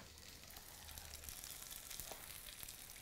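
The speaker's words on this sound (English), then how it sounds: "So when the pan's nice and hot, add the cakes. Just get a nice sizzling sound as they hit." Bubble and squeak cakes hit a hot pan of vegetable oil, and a faint, steady sizzle and crackle hisses quietly throughout with a few small pops.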